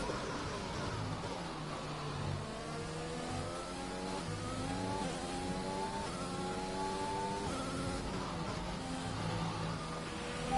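F1 race car in a video game, its engine revving and rising through gears with wheel spin as the rear snaps into oversteer; steady, loud mid-pitched drone with repeated upward sweeps, no talk.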